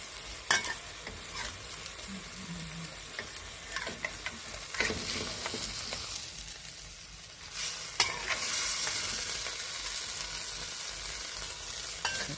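Vegetables stir-fried in a hot pan, a steady sizzle with intermittent scraping strokes of a spatula, growing louder and brighter toward the end, with no voices.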